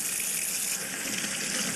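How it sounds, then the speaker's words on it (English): Tap water runs steadily into a kitchen sink while hands are rinsed during baking prep, a continuous bright hiss and splash close by with no talking. "Get me, wash my hands off quickly."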